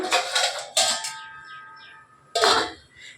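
Metal pot lids clang against cookware while bottle gourd cooks, with two or three sharp ringing clanks spaced over a few seconds, close by, with bright tails fading between hits.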